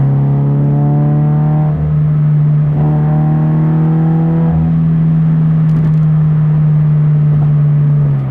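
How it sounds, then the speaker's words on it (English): A Subaru BRZ on a highway downshifts with a rev-matching throttle blip: a steady engine drone whose pitch swells briefly twice as the revs rise, loud and continuous, no voices. "I'll do another rev matching downshift for you here."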